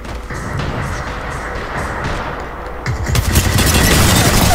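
Rapid gunfire bursts in the shooter game Apex Legends, loud and sustained, growing denser and heavier toward the end.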